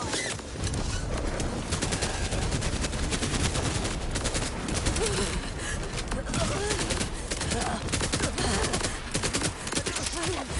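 Dense, continuous shotgun fire and combat noise in Borderlands 4, loud and busy throughout, with a voice talking over the chaos.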